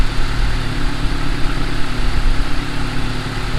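A turbocharged Honda Accord engine idles steadily and close by, a continuous low rumble with no pauses and no talking.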